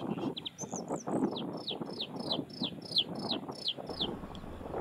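Male bluethroat singing outdoors, a quick repeated series of high whistled chirps in a rhythmic run, fairly near, over low wind noise.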